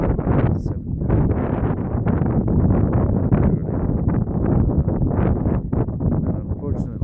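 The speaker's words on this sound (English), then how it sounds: "it's so windy and so cold" Strong, cold wind buffets the microphone at a lakeside campsite in Haugastøl, Norway, in July, a loud and steady roar that never lets up.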